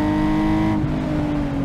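A mildly modified Nissan 370Z on a race track revs hard to the top of third gear, a loud, strained engine whine that drops abruptly as the revs fall, then holds a steadier drone.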